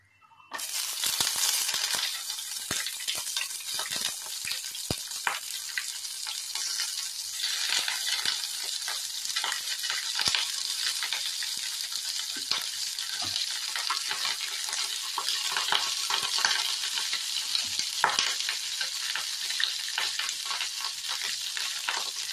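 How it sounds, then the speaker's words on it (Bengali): Cauliflower florets hit hot oil in a pan and set off a loud, steady sizzle with crackling spits that holds for over twenty seconds, close up and with no voices. "এবার ফুলকপিটা আমি ভাজার জন্য দিচ্ছি।"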